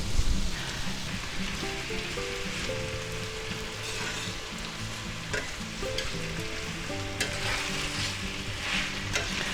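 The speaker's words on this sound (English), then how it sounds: "we'll give that a little stir and get it nice and hot" Pre-cooked angel hair spaghetti is stir-fried over medium heat in a pan with sausage and eggs, giving a steady, close sizzle broken by utensil scrapes and clatters, with no voices.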